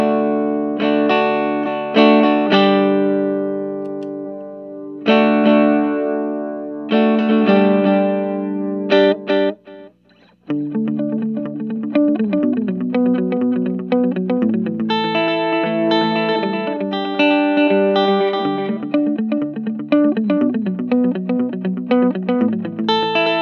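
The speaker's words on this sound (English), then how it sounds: "Clean Tone is a Gretsch Tennessee Special into a Vox AC4." Gretsch Tennessee Special electric guitar played clean through a Vox DelayLab modulated delay into a Vox AC4 amp, with chiming chords and picked phrases trailed by wavering repeats, a brief gap midway, then busier repeating lines, loud and close with no talking.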